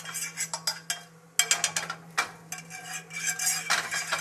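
A utensil spreads butter across a pan for a fluffy omelette, with sharp metallic clinks and scraping strokes in an uneven rhythm, close and fairly clear.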